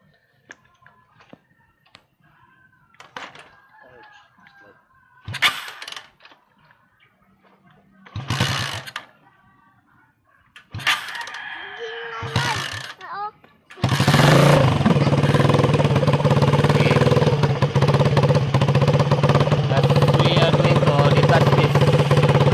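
A water chopper motorcycle engine is restarted. Several short sputtering cranks and a brief rough catch build to a loud, steady running roar that continues to the end.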